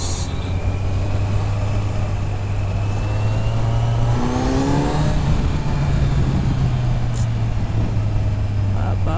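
A Kawasaki Z900 motorcycle rides along after its first service, with a steady engine drone, a brief rising rev midway and constant wind rush, while a rider talks over it.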